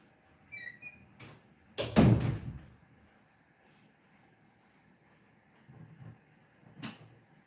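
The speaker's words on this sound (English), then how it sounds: "Shut my door." A door is swung shut indoors, giving one fairly loud thump with a short rattle, surrounded by a few fainter knocks and creaks in an otherwise quiet room.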